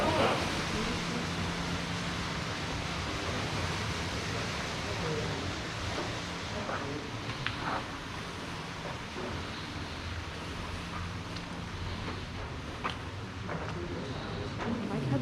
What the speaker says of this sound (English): you can hear the water. That's that waterfall I was talking about